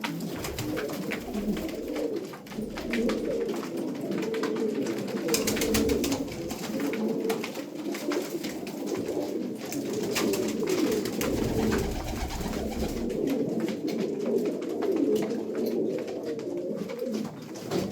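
Adana pigeons coo continuously in a loft, with several birds' soft, throaty calls overlapping at close range and occasional wing flutters and rustling.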